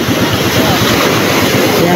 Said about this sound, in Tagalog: ang lalaki po ng alon